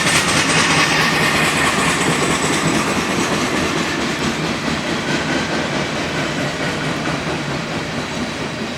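Freight train rolling slowly past in high wind, a loud close continuous rumble with rhythmic wheel clatter that fades slightly over nearly nine seconds, no talk.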